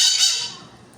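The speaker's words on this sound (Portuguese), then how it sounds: "é passarinho gritando" A bird outdoors lets out one harsh, raspy squawk, loud and close at first, then trailing off into quiet background.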